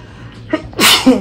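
A single sharp human sneeze, loud and close: a brief breathy intake and then a forceful burst, with a short vocal tail afterward.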